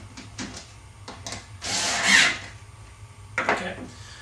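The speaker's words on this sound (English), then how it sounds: "Now go ahead and put my screws in. And screw them on." Screws being driven into drum lug hardware, a few short squeaky turning bursts with a longer grinding twist in the middle, close up, separated by quiet pauses and no talk.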